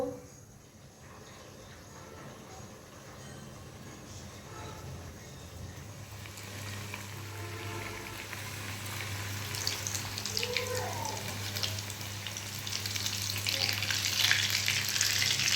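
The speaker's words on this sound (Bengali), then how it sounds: "তেলটা গরম হয়ে গেছে, এবার পিঠাগুলো এক এক করে দিয়ে দিব।" Coconut pitha cakes fry in hot oil, a steady crackling sizzle that builds louder and brighter over time, close and continuous with no talking.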